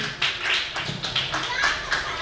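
Audience applause at a Delhi seminar celebration program, a burst of clapping from a crowd that swells in repeated waves for about two seconds, with no voices over it.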